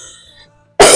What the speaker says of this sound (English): the cough is lingering